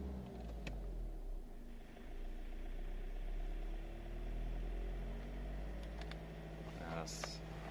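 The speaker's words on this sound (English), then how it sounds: "You can hear the injectors have changed noise." A VW 1.6 or 2.0 TDI diesel idles close by during injector calibration after an injector change: a steady, loud low rumble runs the whole time with no pauses, while a voice speaks faintly over it.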